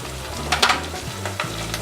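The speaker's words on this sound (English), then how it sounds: "I have to fry also ginger with oil." Ginger and cumin frying in hot oil with onion for a Bengali bhuna khichuri, a close, steady sizzle with a couple of brief stirring scrapes, no voices.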